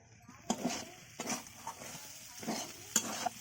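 Elephant foot yam and prawn curry is stirred in a pan, with a handful of separate scraping, clattering strokes over a soft sizzle, close and fairly quiet, and a voice talking in the background.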